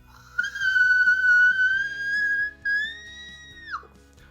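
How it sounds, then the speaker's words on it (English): A singer produces a whistle tone, a very high, thin, squeaky vocal note held steadily for about three seconds with a brief break, then sliding downward at the end, heard alone and clear. "Okay, so a whistle tone kind of sounds like this."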